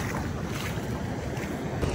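Steady rushing water and wind buffeting the microphone by a river, a broad continuous roar with large surging waves and no voices.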